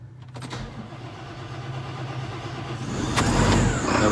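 A JCB Fastrac tractor being checked for a fuel problem is started: the starter cranks, then the diesel engine catches and settles into a steady, growing rumble near the listener.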